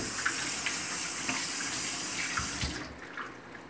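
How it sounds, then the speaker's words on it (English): Hands washed under a running kitchen sink tap: a steady, close hiss of flowing water with small splashes, tapering off as the flow is shut, no talk. "let me wash my hands."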